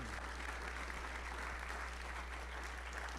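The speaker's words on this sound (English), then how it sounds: "let's give Dr. Young another round of applause and thank her" Applause from a lecture audience, a steady even wash of clapping at low level against a constant hum.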